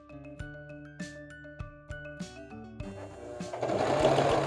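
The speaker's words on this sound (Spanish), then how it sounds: "Y vamos a pasar una costura recta por aquí, por este lado, bien pegadito para cerrar completamente la pretina" A sewing machine sews a straight seam to close the waistband of formal men's trousers, running in short stitching bursts with small pauses before a longer, louder continuous run at the end.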